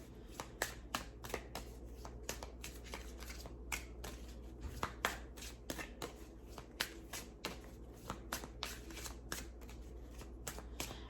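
Tarot cards are shuffled close up in rapid, repeated riffling bursts, a soft steady flurry of card slaps and flicks with no talking.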